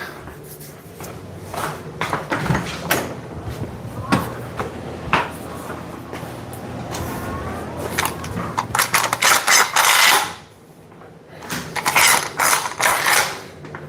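A clamp is tightened in a series of ratcheting, clicking mechanical bursts, close and moderately loud, with brief pauses and handling noise between turns.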